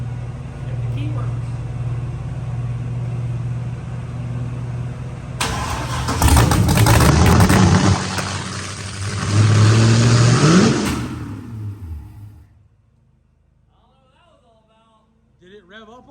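An LS V8 burnout truck fitted with a big new cam cranks and fires up, then revs loudly in rising surges before shutting off into quiet. People talk before the start.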